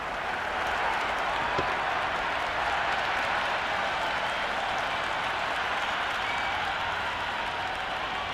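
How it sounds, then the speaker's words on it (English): Cricket crowd at a CLT20 quarter-final between Karachi Kings and Perth Scorchers applauding a six, a dense, steady roar of clapping and crowd noise sustained at full volume throughout. "The crowd is electric right now."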